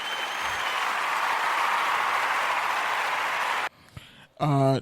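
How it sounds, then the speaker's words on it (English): A short burst of hand clapping runs steadily for several seconds, then cuts off abruptly, followed by a brief moment of a person talking. "So, I'm going to clap that up real quick."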